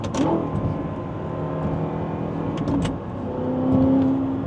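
A tuned Audi R8 with a gated manual gearbox and loud exhaust hums and revs steadily at close range on downshifts, with pitch shifts and a brief rise as it's driven, no talking.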